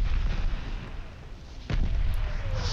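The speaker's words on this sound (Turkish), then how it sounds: "Oo, adama bak, bomba atmış." A bomb goes off in the shooter game Call of Duty Vanguard: a single heavy, sudden boom cuts in over a low rumbling battle background and leaves a lingering roar behind it.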